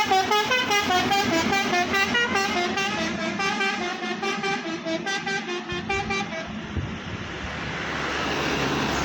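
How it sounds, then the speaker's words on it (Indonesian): A heavy tronton truck passes close by on a road near a bus stop, a loud sustained horn blaring in steady pulses before the rumble of passing traffic takes over. "Di situ ada truk tronton."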